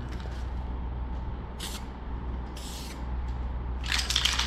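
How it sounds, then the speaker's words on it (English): A spray gun makes test bursts while painting a motorcycle: three or four short hissing spray blasts over a constant low background rumble, the last burst longer and louder; no talk. "We're gonna test the spray pattern."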